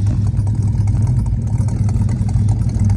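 A restored 1969 Plymouth Road Runner's 440 V8 with a 4-speed runs steadily, a deep, close, continuous engine rumble with slight revving texture and no talking.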